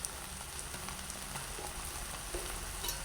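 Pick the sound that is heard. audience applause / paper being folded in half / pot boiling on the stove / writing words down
pot boiling on the stove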